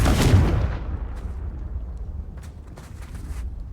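A Confringo fire spell blasts in Hogwarts Legacy, opening with a loud booming burst that decays into a rumbling tail, followed by a few faint crackles.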